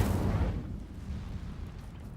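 An Incendio fire spell cast in the video game Hogwarts Legacy gives a loud, close burst of fiery roar at the start that fades into a rumbling low tail, with no voices.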